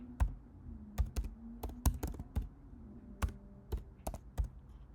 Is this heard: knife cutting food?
no